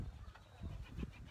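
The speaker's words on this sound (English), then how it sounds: "Now the pigeons are joining us." Pigeons coo quietly nearby in a few soft, low, repeated pulses against faint background noise.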